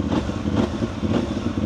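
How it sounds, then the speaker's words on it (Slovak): A CFMOTO 450MT adventure motorcycle exhausts with a steady, throbbing low rumble, close and continuous, with no talking over it. "je ten zvuk výfuku parádny"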